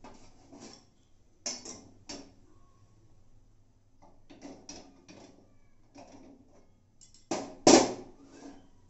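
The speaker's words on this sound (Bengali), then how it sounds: "গ্যাসটা অন করে দিচ্ছি।" A gas stove knob turns with a series of soft mechanical clicks and ticks, ending in a louder snap and whoosh as the burner ignites, close and alone.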